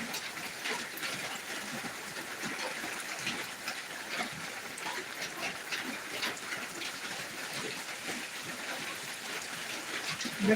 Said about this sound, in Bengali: তো সকাল থেকে মুসলধারে বৃষ্টি হচ্ছে